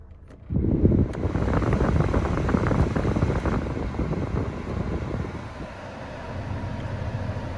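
Steady broadband blowing from a used small car's air conditioner, running at a constant level after switching on abruptly, with no talk over it.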